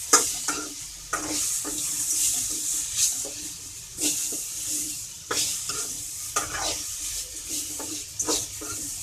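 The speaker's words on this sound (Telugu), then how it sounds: "ఇలా అన్నీ ఫ్రై చేసుకోవడం వల్ల కర్రీ చాలా టేస్టీగా ఉంటుందండి" Tomatoes and spices fry in a pan for a spicy egg pepper curry, with a soft sizzle under repeated rhythmic scraping and stirring strokes, fairly close and clear.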